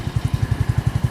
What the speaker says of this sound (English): it started up, it's idling